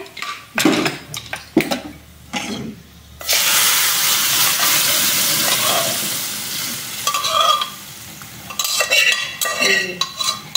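Fried garlic in a pan is joined by leafy greens. Scattered clinks and stirring come first, then a loud, dense sizzle bursts up and holds, easing off toward the end with more utensil knocks.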